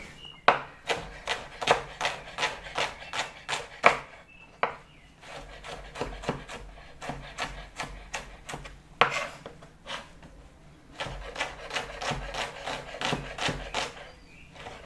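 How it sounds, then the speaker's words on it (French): A knife chops vegetables into fairly thick pieces on a board, making close, crisp taps in quick bursts with short pauses between runs. "On va pas les couper très fines parce qu'on va les écraser déjà."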